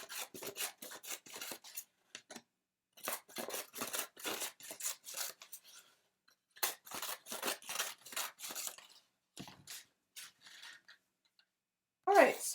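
Scissors cut through crumpled paper sheets in bursts of crisp snipping and rustling, close up and quiet, with brief gaps between the runs of cuts.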